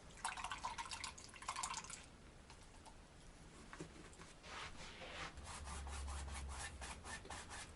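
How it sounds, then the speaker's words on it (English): A paintbrush loaded with water-based paint is swished and rubbed in water, giving irregular wet scrubbing and dripping sounds in bursts over several seconds, fairly quiet and close, with no talking. "Now we're going to clean our brush."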